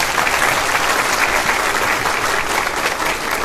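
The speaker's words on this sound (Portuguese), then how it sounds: "Palmas." A lecture audience applauds steadily and loudly at a university talk in Criciúma, a dense, even wash of clapping hands that holds for the whole stretch without letting up.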